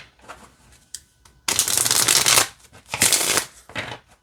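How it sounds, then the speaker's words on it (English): A smaller-format tarot deck on US Games Systems cardstock being riffle-shuffled, two loud bursts of rapid card flutter with softer card handling and taps before and between them. "let's see how this shuffles"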